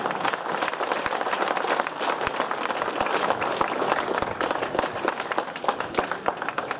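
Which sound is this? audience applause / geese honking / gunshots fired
audience applause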